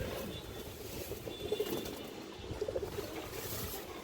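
A lively pigeon gives a couple of soft, throaty coos, brief bubbling bursts set apart by about a second, faint against a low background rumble.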